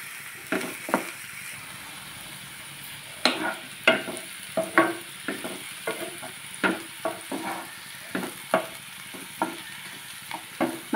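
Chopped vegetables for veg fried rice fry in a pan with a soft continuous sizzle, broken by a run of sharp scraping stirs of a spatula, close and moderately loud, no voices.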